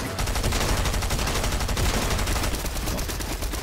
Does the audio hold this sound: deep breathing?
no